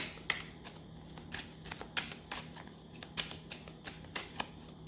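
A deck of tarot cards is shuffled by hand close up, giving quick, quiet riffling flutters and soft slaps in an uneven rhythm over a low background hum.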